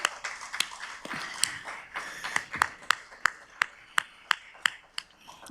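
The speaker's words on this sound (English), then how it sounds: "I applaud each of you" Staff members at a district town hall meeting clap in applause, a fairly sparse series of sharp, close claps that settles into a steady rhythm of about two per second.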